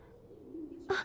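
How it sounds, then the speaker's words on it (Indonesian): A soft, low cooing from a pigeon, close and quiet, ending in a brief brighter flutter or chirp. "Dari mana dua burung dara itu datang?"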